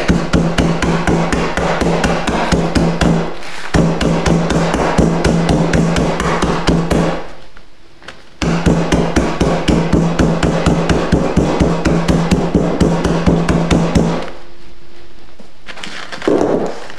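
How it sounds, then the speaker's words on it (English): Hammer pounding hibiscus petals wrapped inside a towel, a rapid steady run of dull, close thuds in two long bursts separated by brief pauses. "you're going to use your hammer to hammer the petals into pieces"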